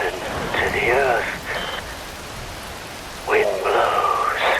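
Steady rain hisses throughout a scene in Metal Gear Rising: Revengeance, a constant wash of falling water under two stretches of voiced speech.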